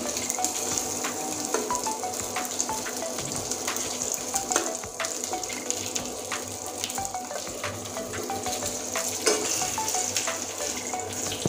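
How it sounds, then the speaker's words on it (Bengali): Rohu fish frying in hot oil for a Bengali coconut-paste fish curry, a steady dense sizzle with crackling pops throughout, close and fairly loud, without talk. "এই দেখুন মাছটা লাল করে ভেজে নিয়েছি"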